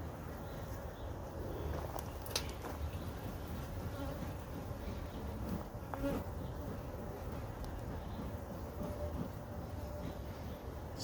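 Honeybees from a new package colony buzz in a dense, steady drone around an open hive during a spring inspection, close and continuous with a few brief clicks and knocks over it.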